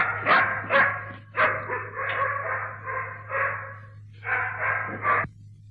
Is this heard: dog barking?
yes